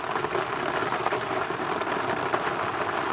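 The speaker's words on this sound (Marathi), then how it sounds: "पाऊस चालू आहे जोरात बघा पाऊस किती जोरात आलेला आहे" Heavy monsoon rain pouring steadily in a village, a dense, loud, continuous wash of drops with no pauses and no voices.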